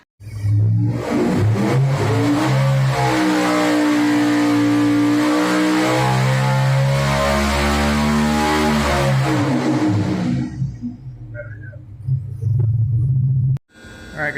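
A competition engine on a dyno screams through a long pull, pitch climbing steadily to a loud, sustained peak, then dropping back to a rough idle before a sudden cut.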